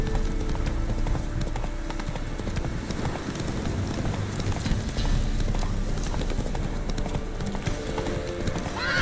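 Roach, a horse in The Witcher 3: Wild Hunt, gallops in a steady, close clip-clop of hooves over a dense game soundscape, with a brief neigh mixed in.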